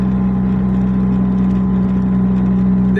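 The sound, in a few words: supercharged Ford car engine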